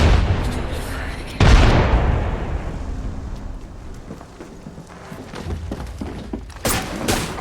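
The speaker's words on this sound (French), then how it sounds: "Grenade frag lancée." A frag grenade in the Apex Legends shooter goes off in a sudden, loud boom that rolls away into a long rumble, followed by scattered gunfire and faint voices.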